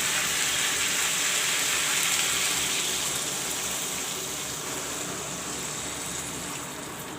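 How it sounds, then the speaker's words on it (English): Water poured into a pan of frying barbatti and potato curry with masala, a steady gushing hiss that sizzles loudly at first and slowly eases over several seconds, close and alone. "Put some water."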